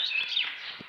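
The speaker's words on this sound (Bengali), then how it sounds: "পাখি এখানে ডাকাডাকি করতেছে" Brief, high chirps of small birds sound faintly against a quiet background, a few quick calls in one short moment.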